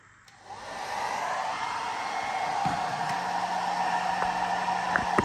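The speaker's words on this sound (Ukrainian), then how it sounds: "Перевіримо так само феном" A hair dryer powered by a portable power station switches on and blows with a steady, loud rushing hum, running continuously close by.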